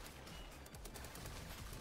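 Rapid minigun fire from an aircraft in the Trailmakers video game, a dense continuous rattle of shots filling the whole stretch at a low, steady level with no talking.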